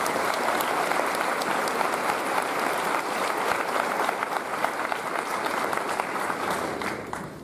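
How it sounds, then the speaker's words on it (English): An audience at a high school commencement ceremony gives teachers a loud, steady round of applause, with dense clapping holding throughout before easing slightly at the close. "Could we please have a round of applause for them?"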